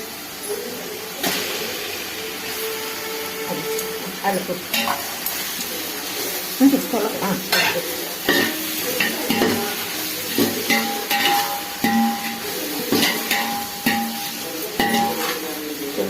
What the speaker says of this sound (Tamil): இப்போ ஆட் பண்ணிக்கலாம் இறா